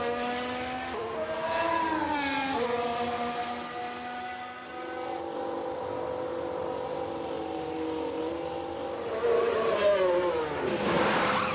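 F1 Manager 2022 race car driven by Lewis Hamilton at the Mexico circuit in wet conditions, engine whining steadily with gear-shift pitch changes as it enters the pits, continuous and fairly loud, ending in a brief rising burst.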